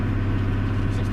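A McHale Fusion 2000 baler running behind a tractor in a very light crop gives a steady, loud, low mechanical drone with no breaks, heard from close by inside the cab.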